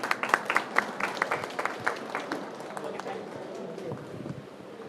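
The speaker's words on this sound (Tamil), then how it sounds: "எல்லாரும் அனைவரும் கைதட்டி கரகோஷம் எழுப்பாறு அன்போடு கேட்டுக்கொள்கின்றேன்." Scattered clapping from an audience at an office opening and portrait unveiling ceremony, a burst of uneven claps that thins and fades over a few seconds beneath a murmuring room.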